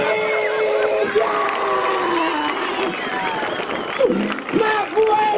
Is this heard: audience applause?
yes